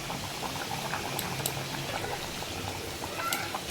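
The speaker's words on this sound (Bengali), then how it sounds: "খিচুড়িটা আমার ফুটছে, এবার আমি নুন দিয়ে দেবো" A pot of Govindbhog rice khichuri simmers, giving a soft, continuous bubbling and popping with a few faint clinks, low in level and with no voices.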